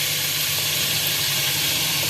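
Ground spices, coriander powder, red chilli powder and turmeric, hit hot oil in a pan for a dhaba-style cauliflower and chicken curry, giving a loud, steady, close hiss and sizzle that holds evenly for a couple of seconds.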